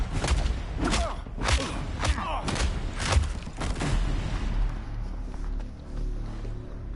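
Rapid bursts of gunfire in Injustice 2 crackle and thump repeatedly over a dense, rumbling background, loud and close for the first several seconds, then trailing into a low drone.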